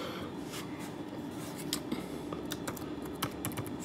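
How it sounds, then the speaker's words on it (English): Someone types on a computer keyboard, a faint, close series of irregular clicking keystrokes with small bursts of quicker taps, heard with no talking. "I'm just gonna type in"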